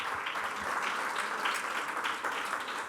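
Sustained applause from an audience at a commemorative gathering marking the closure of a Madrid newspaper, many hands clapping steadily and evenly, fairly quiet and slightly distant, with no talking over it.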